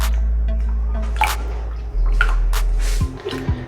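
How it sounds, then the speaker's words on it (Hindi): Raw goat liver is washed in water, with irregular drips, splashes and squishy handling noises close by, all under a steady low hum. "इसमें हम पानी डालेंगे"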